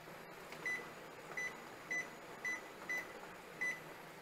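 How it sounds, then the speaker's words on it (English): A digital kitchen timer gives seven evenly spaced short, sharp beeps as it is set, heard over a low steady hum while jars of barbecue jam are processed in boiling water on the stove. "Let's go ahead and turn our timer on for 15 minutes."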